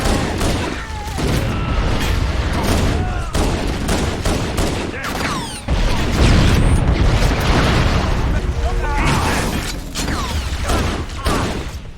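A frag grenade bursts amid a Halo firefight aboard the Pillar of Autumn, one heavy boom among a near-constant clatter of gunfire, with soldiers shouting throughout.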